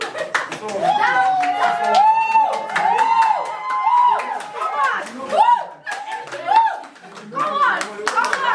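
A group at a youth training workshop claps rhythmically and cheers, with many voices chanting and calling out together over sharp, fast hand claps, loud and close throughout.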